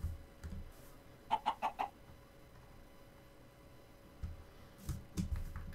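A quick run of four pitched Minecraft chicken clucks, then quiet game ambience and a few more low clucks toward the end, fairly close and clear.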